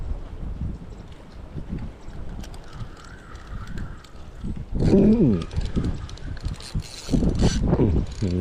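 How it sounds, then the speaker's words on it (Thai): Strong wind buffets the microphone in gusty low roars at an outdoor lunch spot, with louder blasts midway and near the end and faint voices in the background. "ลมแรงๆ"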